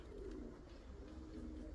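Pigeons in a loft or yard give a steady low cooing murmur, with a young bird flying nearby. Soft wing sounds may be mixed in, and the whole scene stays quiet and close.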